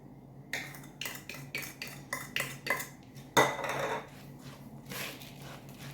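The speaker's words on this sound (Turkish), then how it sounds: "Tekrar karıştırıyorum." A utensil clinks repeatedly against a bowl while beaten eggs with salt are mixed for stuffed artichokes, giving a quick, irregular run of sharp clattering taps up close.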